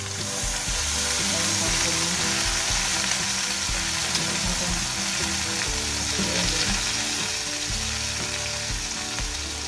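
Water spinach (kangkung) sizzling and frying in a hot pan for a Minang-style stir-fry with shrimp and sweet corn, a loud, steady crackle with stirring scrapes throughout and no voices.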